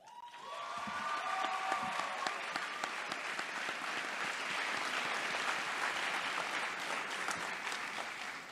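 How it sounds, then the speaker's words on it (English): Audience at a high school Veterans Day program breaks into sustained clapping for veterans, building quickly after a brief tone at the start and holding steady, fairly distant and full-hall. "Please join me in a round of applause for our very own Marietta High School veterans"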